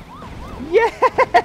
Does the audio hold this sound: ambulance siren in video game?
yes